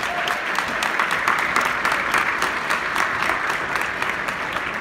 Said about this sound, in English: I'd like you to give them a big round of applause